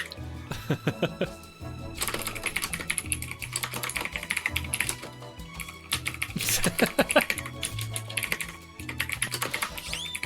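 Rapid, busy computer keyboard typing fills the stretch in dense bursts with short pauses, close and fairly loud, while people talk and chat over it in an improv-style group conversation.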